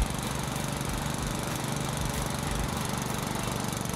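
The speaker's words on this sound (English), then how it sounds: "Once the engine has started, pull back the throttle slightly to the run position." A Hyundai HYM46SPE petrol lawn mower engine runs steadily and loudly up close, a continuous rattling drone with an even pulsing rhythm throughout.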